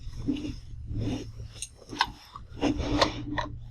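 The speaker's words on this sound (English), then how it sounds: "You really tighten the screws now" Small screws on a turntable tonearm being tightened, giving close scraping, rubbing and clicking metallic sounds in irregular bursts.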